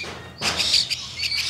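Young chirping birds kept by a hand-rearing breeder give a quick burst of high, thin, repeated chirps, close and clear, starting abruptly and continuing in short overlapping calls.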